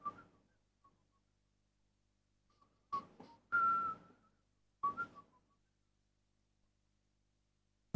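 A person whistles a tune in a few short, quiet, tuneful bursts, separated by stretches of near silence, with no talking.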